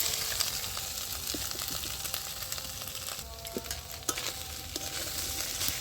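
Boiled potatoes tossed into hot oil with fried ginger and green chilli, sizzling steadily with scraping stir strokes and a few sharp clinks throughout, close and fairly loud.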